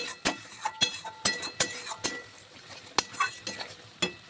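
A spatula scrapes and knocks against a pan as spice paste is sautéed with jackfruit seeds, sharp clinking strokes at an irregular rhythm over a faint sizzle, close and clear.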